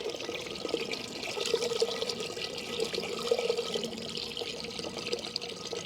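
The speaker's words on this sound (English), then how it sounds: "Okay, this is a little bit lower water flow." A small DIY fountain built from thrift store items runs at a lower water flow, giving a steady, close trickling splash with a soft, even bubbling texture and no talk.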